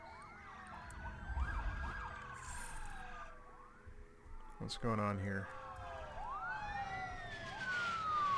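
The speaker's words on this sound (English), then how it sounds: "Ah, an ambulance." A wailing ambulance siren in the city-building game SimCity 2013 sweeps up and down over busy city traffic ambience, with someone talking over it.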